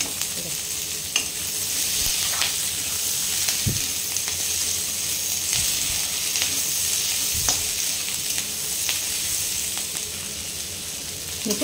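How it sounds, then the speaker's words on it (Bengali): Capsicum and onion sizzle steadily in a hot pan for a soya chunk chili dish, with a continuous frying hiss and occasional spatula stirring clicks close by, no voices. "এবার চলুন ক্যাপসিকামটাও দিয়ে দিই, একটু ভাজা ভাজা করে নেব।"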